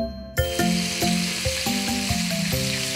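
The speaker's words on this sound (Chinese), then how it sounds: "首先我们来煎虾仁，" Shrimp sizzles in hot oil in a wok while being pan-fried for Cantonese-style egg fried rice. A steady close crackle bursts in after a short quiet start and continues, with a faint tonal hum underneath.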